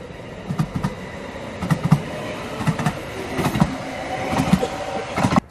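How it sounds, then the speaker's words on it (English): A train rolling past at fairly close range, a steady rumble with repeated rhythmic clacks of wheels over rail joints, loud and continuous across the whole stretch with no talking. "We'll wait for the train to pass."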